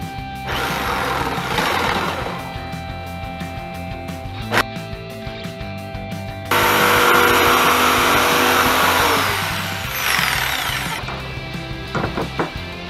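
A power tool saws a hole for a hatch cover through a kayak hull, a loud, steady buzzing cut in long stretches with brief pauses and bumps between passes.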